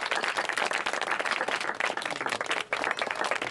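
Dense, steady clapping from a crowd at a Christian projector show in Gafor Wala Patha, Pakistan, fills the whole stretch, loud and continuous with a brief dip near the end.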